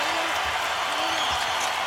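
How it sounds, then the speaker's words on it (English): An arena crowd at an NBA Finals game between the Lakers and Celtics roars steadily, a dense, continuous wall of cheering and noise with a commentator's voice faintly over it. "Crowd getting up."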